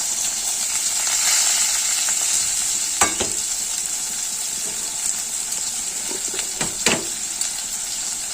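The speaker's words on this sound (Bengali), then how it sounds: "ফোড়নটা ভাজা হয়ে গেছে, দিয়ে দেবো কেটে রাখা একদম ঝিরিঝিরি করে পেঁয়াজ।" Finely sliced onions frying in oil tempered with spices, cooked for a Bengali masoor dal with tomato, give a steady close sizzle with a few scraping stirs, no voices.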